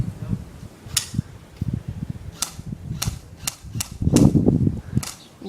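Airsoft guns fire during an outdoor airsoft game, a run of sharp individual pops spread irregularly over several seconds, some close and loud, with rustling and movement between the shots.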